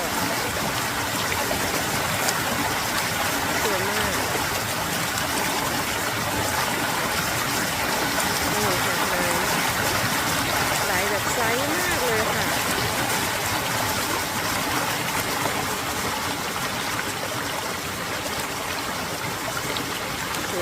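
Small natural stream flowing over rocks, a steady continuous babbling and trickling rush of water, close and even throughout with no break.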